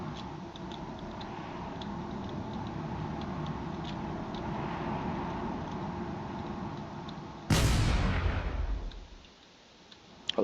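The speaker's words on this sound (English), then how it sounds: "There's a lot of cannon fire coming over here." Cannon fire in a space battle video game: faint scattered ticking shots, then one sudden loud blast that booms and fades into near silence.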